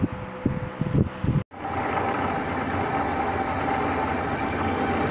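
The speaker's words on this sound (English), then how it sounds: "This is my work bandsaw I use. I'm cutting off a piece of stock I'm going to use for my fly cutter" Work bandsaw cutting off a piece of metal stock in a home machine shop: a few faint knocks, a brief silence, then a loud, steady mechanical whir with a high whine that continues to the end.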